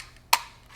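A single sharp, close metallic tap sounds as the trigger guard pin is driven back into a Benelli M2 semi-automatic shotgun, followed by quiet.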